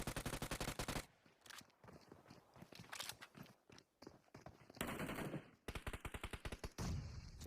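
PUBG Mobile match gunfire: rapid automatic bursts with loud, close, rhythmic cracks in several long strings broken by short gaps and scattered impacts, including a grenade blast.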